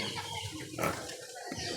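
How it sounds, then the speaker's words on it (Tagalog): Pigs grunt in a farm pen, low rough grunts mixed with noisy shuffling, a sharper burst in the middle, fairly close and without voices. "Eh, baboy dyan."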